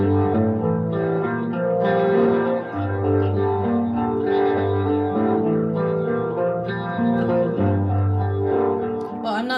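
Electric guitar played through reverb and delay effects, a sustained chordal passage with washy echoes and steady loudness throughout, alone without talk.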